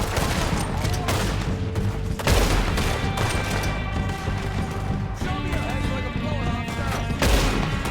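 Dense gunfire in a Red Dead Redemption 2 shootout around a train robbery, with overlapping rifle and revolver shots and crashing impacts forming a loud, continuous barrage throughout.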